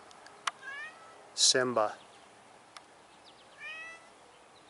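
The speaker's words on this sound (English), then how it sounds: "This is my cat" A house cat meows a few times, with one loud, drawn-out whining cry in the middle and softer mews before and after, close by, while a person speaks briefly.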